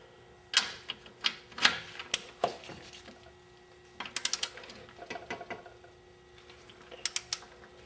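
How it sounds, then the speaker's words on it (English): Ratchet wrench tightening the strut-to-knuckle bolts on a 2000 Pontiac Bonneville during a strut assembly replacement, heard as short bursts of sharp mechanical clicking separated by pauses, fairly quiet and with no talking. "The strut to knuckle gets tightened to 135 foot-pounds."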